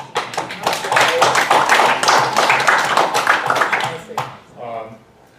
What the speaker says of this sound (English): I think this worth an applause.